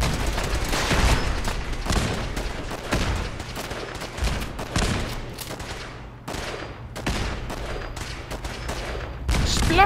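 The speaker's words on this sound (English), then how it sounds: "Explosions!" Gunfire and explosions from the video game Fallout 4 play as a dense, continuous barrage of rapid shots with sharp bursts, loud and close, with no talk over them.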